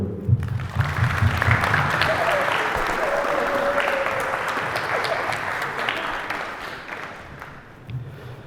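Sustained audience applause fills the hall, a dense wash of clapping from a large crowd that stays steady for several seconds before tapering slightly near the end.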